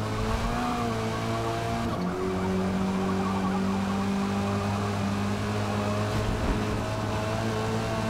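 A Lynk & Co 03 TCR race car in the Forza Motorsport video game, its engine droning steadily at high revs with a brief dip around a gear change or lift, loud and continuous with faint tyre noise.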